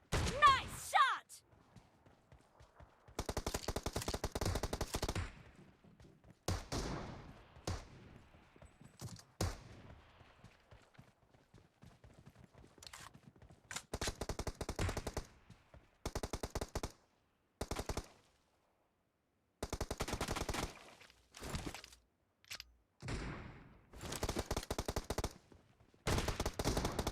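Bursts of gunfire in the mobile game PUBG Mobile, including shotgun fire in arena mode, coming in dense sustained volleys separated by short silent gaps, loud and close.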